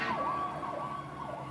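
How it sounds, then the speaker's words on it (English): A fire truck siren wails in repeated sweeping cycles, steady and fairly clear, sounding from a moderate distance. "I mean a fire truck."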